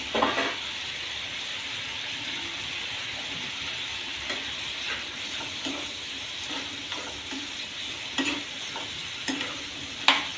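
Boiled raw banana pieces stirred in a pan, with a soft continuous sizzle under intermittent scraping clinks of the spoon against the pan, close and fairly quiet.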